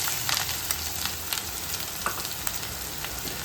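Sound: onion frying in coconut oil with fennel seeds

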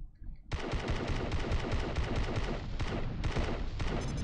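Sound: turret gunfire in a video game

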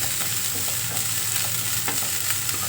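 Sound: eggplant frying in oil

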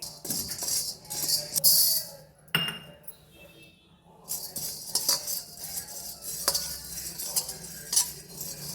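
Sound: dry-roasting sago and coriander seeds in a pan

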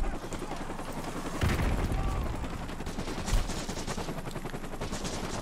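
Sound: gunfire at the player in the video game COD Modern Warfare 2 Remastered

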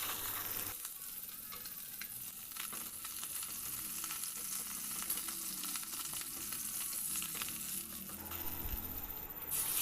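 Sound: fish frying in oil in a pan

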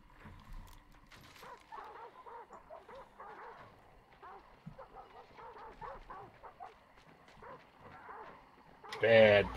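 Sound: hellhound dogs barking, from video game Hunt: Showdown

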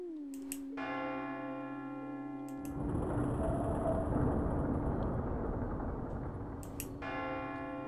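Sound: bell rung three times in video game Tormentum

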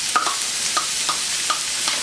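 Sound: garlic clove and onion frying in a pan

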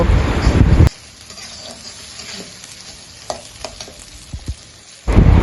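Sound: goat brain frying with onions

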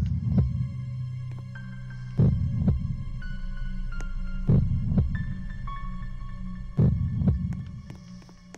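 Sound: heartbeat sound effect in the video game Black Death

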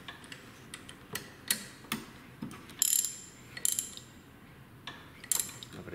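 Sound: angled wrench tightening Bosch VE4 injection pump bolts

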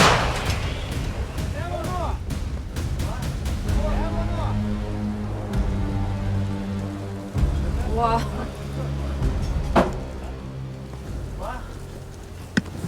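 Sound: artillery gun firing

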